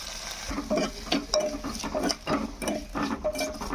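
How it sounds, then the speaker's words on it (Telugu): Tomato pieces with turmeric and salt sizzling and frying in a pan for pepper rasam, with steady crackle and repeated stirring scrapes, close and fairly loud, no talking. "five minutes వేగనిచ్చుకుందాం"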